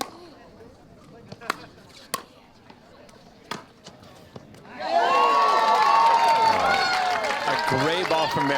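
Crowd at a women's tennis match at the Orange County Cup cheering and applauding a winner, a sudden burst of clapping and shouts after a few sharp ball strikes, sustained and fairly loud.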